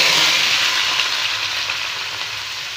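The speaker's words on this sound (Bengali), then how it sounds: "এবার এই তেলেই এঁচড়গুলো ভেজে নেব।" Pieces of raw jackfruit fry in hot oil for a vegetarian biryani, a loud, steady, dense sizzle filling the whole moment, close and continuous with no voices.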